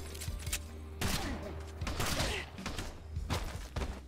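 Video game gunfire from Kill the Crows: repeated shots and bursts at irregular intervals, moderately loud, with thuds and game effects in between and no speech over them.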